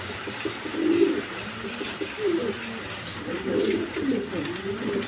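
Pigeons kept for breeding with eggs and chicks coo in soft, repeated throaty phrases close by, over a low background murmur.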